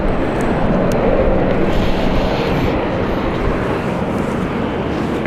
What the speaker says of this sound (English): As Luxair is about to take off.